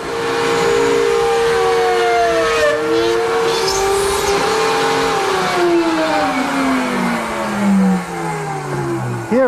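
Router table with a beading bit cutting a bead along old pine stock held by feather boards, a loud close motor whine that shifts pitch and drops as the cut progresses.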